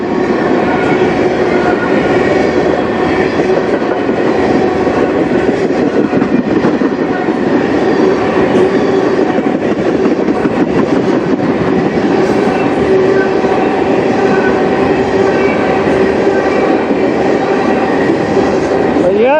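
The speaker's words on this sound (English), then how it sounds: "Yeah, it does look like it's an all-fuel train." A long CN freight train of fuel tank cars with hoppers at each end rolls past loud and close on the Strathroy Subdivision near Sarnia, Ontario, a continuous rumble of wheels and clacking cars with faint squeal, and someone talks briefly.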